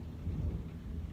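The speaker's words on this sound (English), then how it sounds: "There's going to be a clap of thunder." A low, rumbling roll of thunder during a big storm, deep and steady for about a second with no voices.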